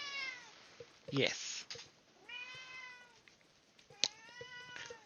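A cat meows several times in a fantasy role-playing game, each call drawn out and rising then falling, close and clear, alongside a short spoken word and a few soft clicks.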